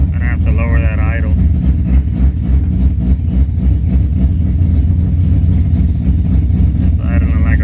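A Mazda RX-7 with a 20B three-rotor engine idles steadily with a low, throbbing rumble throughout, and a voice speaks briefly at the start and again near the end.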